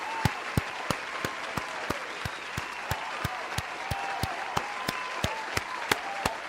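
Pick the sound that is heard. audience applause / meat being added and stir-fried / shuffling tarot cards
audience applause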